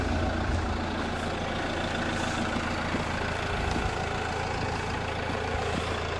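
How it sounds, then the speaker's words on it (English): A 2016 Fiat Ducato 2.3 MultiJet II one-way tipper truck idles steadily with a low, even diesel drone, close and unbroken, no talk. "Leave the engine running so I can show you the tipping gear working as well."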